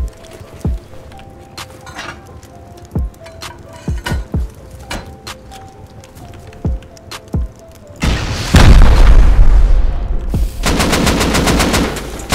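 Rocket explosions during a base raid in a survival video game, with sharp thuds and bursts early on, then a long, loud, roaring blast wash followed by rapid crackling debris.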